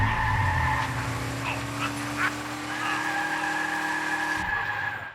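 Tyres of a remote-controlled car in a video game squeal in long, loud skids, two sustained screeches separated by brief clatter, ending abruptly.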